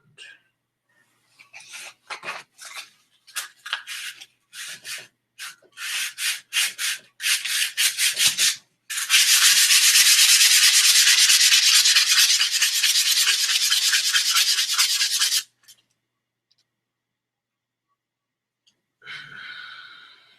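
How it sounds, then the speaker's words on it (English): Close hand-sanding of a wooden wand: short rasping strokes speed up into a long, continuous scrubbing run, then stop, with one brief final pass after a pause. "it's going to require lots of sanding on the wand"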